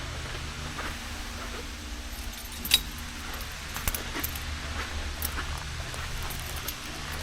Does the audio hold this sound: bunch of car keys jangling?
yes